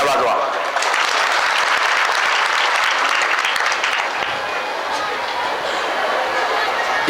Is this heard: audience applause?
yes